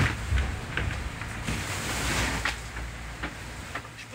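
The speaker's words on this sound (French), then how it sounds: "Ouais, des montagnes de vagues" A racing sailboat in the Vendée Globe pounds through heavy storm seas with huge waves, a steady roaring wash of water and wind with thuds of hull slamming, no voices.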